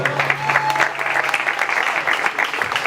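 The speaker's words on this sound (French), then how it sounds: "on peut s'applaudir très très fort." An audience applauds at a small outdoor music show, a steady wash of clapping from a crowd that holds evenly throughout, with a faint voice or tone briefly underneath.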